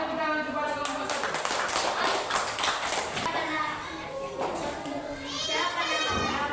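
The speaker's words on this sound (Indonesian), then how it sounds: "Oke, kasih tepuk tangan kepada kelompok satu." Schoolchildren in a classroom applaud a group, a burst of quick clapping mixed with children's voices and chatter, fairly faint, with a teacher speaking.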